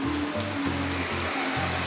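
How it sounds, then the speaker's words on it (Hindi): Heavy rain pours down outside a home, a dense, steady hiss of drops hitting surfaces, with a low rhythmic thumping running underneath and no voices. "बहुत जोरों की बारिश हो रही है"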